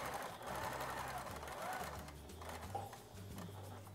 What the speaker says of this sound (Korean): 1cm 시접을 따라서 지그재그로 일단 봉제를 해주시고요